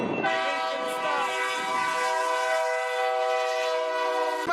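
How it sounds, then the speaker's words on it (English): A train horn sounds as a loud, sustained multi-tone blast, held steady for several seconds and close by, with faint rumble beneath as the train approaches. "here comes the train"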